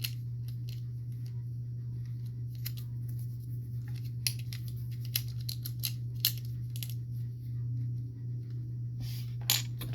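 Plastic parts of a Transformers Soundwave building-block toy clicking and snapping into place, sharp scattered clicks close up over a steady low electrical hum, with no talk.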